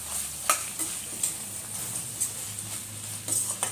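A spoon stirs spiced goat tripe curry in a hot pan, with a steady sizzle and sharp scraping clinks against the metal at an uneven rhythm.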